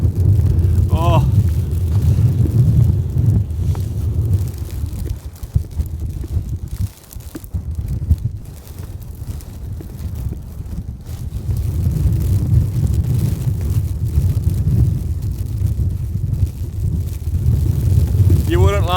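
A blizzard wind roars steadily around a tent pitched in a snowstorm, a loud buffeting rush that dips briefly midway, with a person talking over it.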